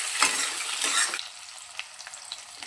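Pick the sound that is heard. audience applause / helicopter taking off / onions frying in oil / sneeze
onions frying in oil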